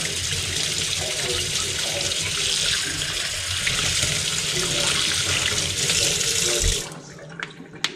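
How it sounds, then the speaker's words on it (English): Kitchen tap water runs steadily as hands are rinsed after cutting fish, a continuous loud splashing stream that stops abruptly near the end, followed by a few faint clinks. "now let's go rinse our hands off again since we cut the fish."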